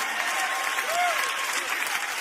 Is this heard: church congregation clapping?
yes